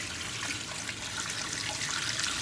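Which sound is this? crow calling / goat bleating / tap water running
tap water running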